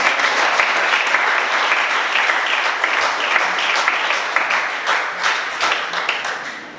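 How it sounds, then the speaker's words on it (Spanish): A church congregation applauding loudly and steadily, dense clapping from many people that holds strong for several seconds before easing slightly at the end. "den un aplauso al Señor"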